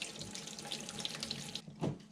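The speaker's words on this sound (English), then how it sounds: "I like to rinse the outside of the hose and my cleaning brush and everything with water just to get all the soap off of it." Tap water runs steadily while a CPAP hose and its cleaning brush are rinsed under it to wash off soap. The broadband splashing is continuous, close and moderately loud, and cuts off near the end.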